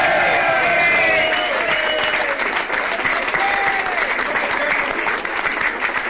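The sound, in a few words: audience applause welcoming a speaker in a bar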